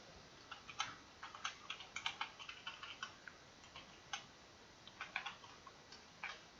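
Typing on a computer keyboard while configuring Elasticsearch clusters, with irregular bursts of light, quiet key clicks spread across the clip and no talk.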